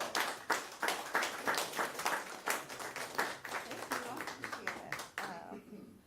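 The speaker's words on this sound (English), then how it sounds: "Let's give her a round of applause." An audience at a county commissioners court meeting claps steadily for several seconds in a fairly close, moderately loud round of applause, which thins out and fades at the end.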